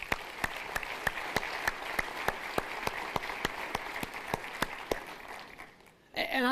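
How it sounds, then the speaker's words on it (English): Audience applause builds into a steady rhythmic clap, loud sharp hits at an even pace, before breaking off near the end as a voice comes in. "So huge round of applause for them,"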